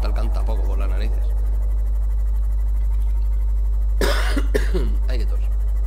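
A person coughs in a short burst twice while gaming in Subnautica, close and loud over a constant low hum, with talk in Spanish before the coughs.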